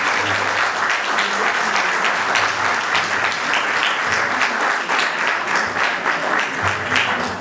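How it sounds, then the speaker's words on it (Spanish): Renewed audience applause for the authors at a book presentation in Rosario, dense sustained clapping from a sizable crowd that keeps an even level throughout. "Les renovamos el aplauso"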